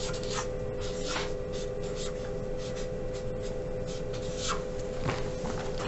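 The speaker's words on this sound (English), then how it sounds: "you're going to write the word bored real big in the center of the paper" A pen or marker scratches a word in large letters across a sheet of paper, giving a run of quick, rough strokes with short pauses, close and steady over a constant background hiss.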